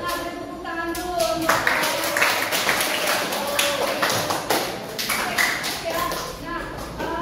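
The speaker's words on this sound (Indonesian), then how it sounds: "Nah, tepuk tangan dulu." A classroom of students clapping together at a teacher's prompt, a steady run of overlapping claps with voices mixed in, close and fairly loud throughout.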